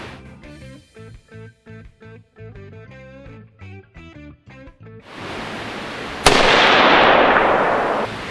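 An AR-15 rifle fitted with a muzzle brake fires a single loud, sharp shot outdoors, followed by a long, noisy decay. Tonal music plays for the first few seconds before the shot.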